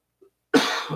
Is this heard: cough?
yes